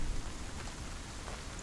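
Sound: heavy rain

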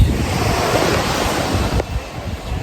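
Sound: sea waves on a beach

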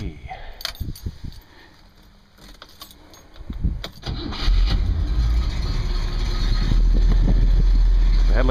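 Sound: 1960 Cadillac Coupe Deville engine starting and idling

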